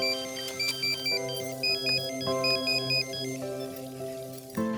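A phone ringtone for an incoming call from mother plays a bright, repeating electronic melody of stepped tones, moderately loud and clear, with no voices over it.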